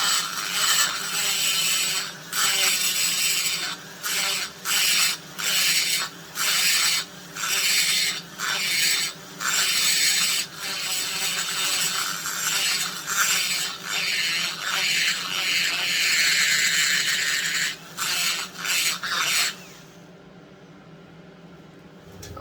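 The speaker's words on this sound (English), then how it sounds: "I'm gonna grind just a little bit more" An angle grinder grinds metal in close, loud bursts, the harsh whine rising and dropping through a string of short passes before cutting off near the end, with no voices.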